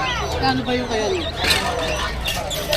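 Pet birds such as lovebirds chirp and tweet in a busy bird market in Bocaue, their high calls scattered under constant nearby chatter and bargaining voices.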